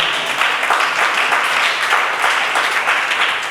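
A church congregation applauds and cheers, a steady wash of clapping that stays loud and even throughout.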